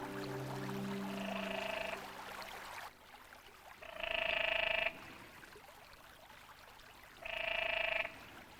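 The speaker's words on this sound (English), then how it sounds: "the pools ring with the sound of courting canyon tree frogs" Canyon tree frogs call in three long, buzzing trills, each lasting about a second, separated by quiet stretches over a soft background of flowing water.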